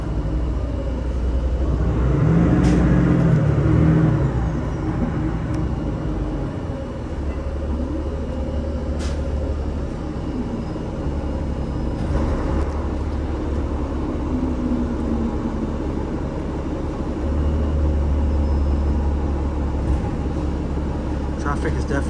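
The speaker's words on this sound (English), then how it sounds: "Traffic has definitely picked up a little bit here." Downtown Toronto street traffic heard from inside a TTC 506 Carlton replacement bus at midday: a constant low engine rumble with passing vehicles, occasional clunks and rises in noise, and faint voices in the background.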